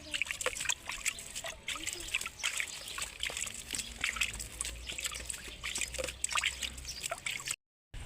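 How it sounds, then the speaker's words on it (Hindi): Water trickling and splashing as it is poured onto a potted jasmine plant with buds, a steady close pour with drips under someone speaking. "इसमें मैंने पानी डाल दिया है।"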